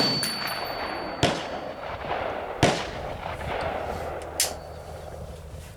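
Three sharp rifle reports from an M1A fired with surplus ammunition at an outdoor range, each a loud crack followed by a short echoing decay, spaced roughly a second and a half apart over a steady background hiss.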